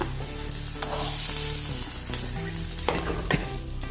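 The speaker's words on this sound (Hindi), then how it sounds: "इसलिए थोड़ा सा इसको हम भून लेंगे तेल में।" Okra pieces frying in hot oil give off a steady, close sizzle, with occasional scrapes and clatters of a spatula stirring the pan and no voices.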